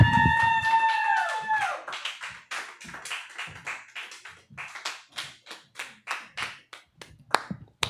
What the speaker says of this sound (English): Keep those applause going for Marty Malloy, y'all.